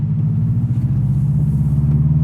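A JDM Subaru WRX STi bug-eye with an EJ207 engine rumbles close by, its deep, steady, throbbing note holding without pauses and no voices over it.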